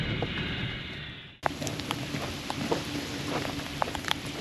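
Heavy rain pouring on a camping trailer beside a river in the Olympic Mountains. Dense, close drumming with scattered sharper drop hits, and a brief dip before the downpour resumes at full loudness.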